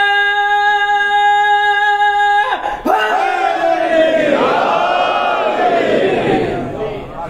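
A congregation at a Muharram majlis in London loudly chants the slogan Nara-e-Haidar in unison after a sustained tone cuts off, voices swelling together and ringing for several seconds.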